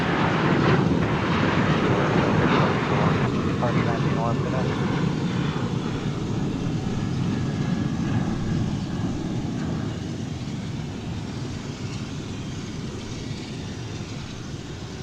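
A McDonnell Douglas MD-11 jet at DFW Airport produces a broad, steady engine roar that slowly fades over several seconds, heard from a distance with a broadcast-style background.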